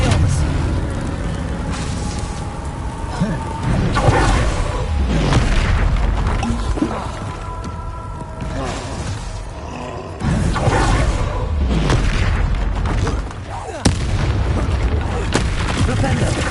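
In Hogwarts Legacy, Bombarda and Confringo spells set off a rapid string of heavy booms and roaring blasts. Dense battle noise runs throughout, with voices shouting amid the explosions.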